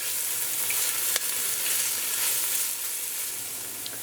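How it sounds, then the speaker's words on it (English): Onions sautéing with cinnamon sticks and cloves, a steady close sizzle running throughout with a couple of brief spoon clicks, no talking. "just allow this to saute for all of those flavors to come out"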